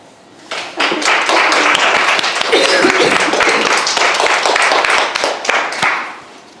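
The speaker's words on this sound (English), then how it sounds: "It's probably a good job we started with an applause" An audience at a symposium claps loudly for several seconds, a dense burst of applause that swells and then tapers off.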